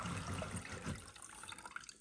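Running water from a flat mop squeeze-bucket wash area, a steady close rush of water splashing continuously throughout.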